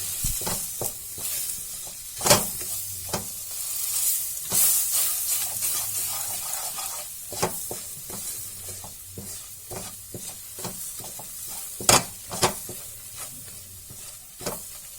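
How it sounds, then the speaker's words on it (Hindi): Ground coriander powder stirred in a hot frying pan for paneer butter masala, with steady sizzling and frying hiss under scraping stir strokes and occasional sharp spatula knocks against the pan. "धनिया पाउडर डालेंगे 2 टेबल स्पून और इसे हम चला लेंगे इस तरीके से"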